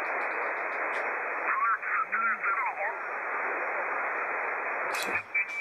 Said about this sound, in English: picking out the signals and zero beating on the sideband signals